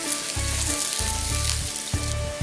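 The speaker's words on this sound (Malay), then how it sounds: "Kita panaskan bawang merah yang kita telah kisar halus." Finely blended shallots sizzle steadily in hot olive oil, with a loud, continuous frying hiss and a periodic low stirring rhythm close up, with no voices.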